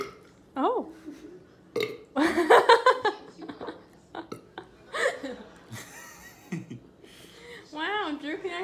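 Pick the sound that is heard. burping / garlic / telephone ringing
burping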